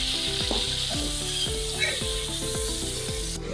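Garlic, ginger and onion paste fries with browned chicken in a karahi, giving a steady close hiss of sizzling oil with faint stirring scrapes beneath, no talk.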